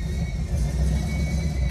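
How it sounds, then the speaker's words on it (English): A badly running car engine in Gettysburg, Pennsylvania, rumbling steadily and loudly as it passes close by, with a rough low-pitched drone and no voices. "that car sincerely needs to visit an auto parts store, not the hardware store."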